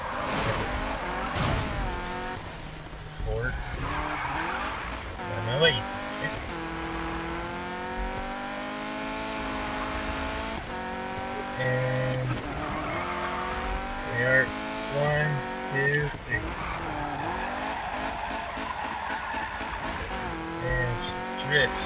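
A car in the Need for Speed video game drifts with long tire squeals over a revving, shifting engine, loud and continuous, while someone talks throughout.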